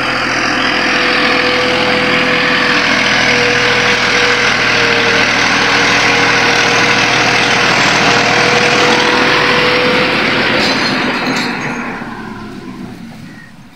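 A Massey tractor's engine runs in a loud, steady drone while towing a broken-down Russian tractor, then fades near the end.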